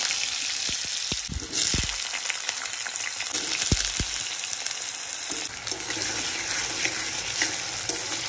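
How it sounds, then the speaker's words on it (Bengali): Potatoes and whole cumin seeds frying in hot oil, a close, bright crackling sizzle with a few stirring knocks and clatters, swelling as ingredients go in, no voices. "তেলটা গরম হয়ে গেছে, এবার সামান্য কিছু গোটা জিরে ফোড়ন দিয়ে দিলাম। আলু দিয়ে দিলাম।"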